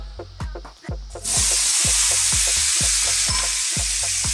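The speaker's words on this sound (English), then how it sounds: "Back in, straight into our hot wok goes our pork." Pork dropped into a hot wok with no oil bursts into a loud, steady sizzle after a few rhythmic thumps of stirring. The frying hiss carries on close and strong as the repeated scraping continues underneath.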